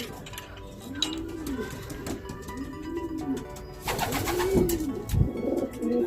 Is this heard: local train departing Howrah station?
no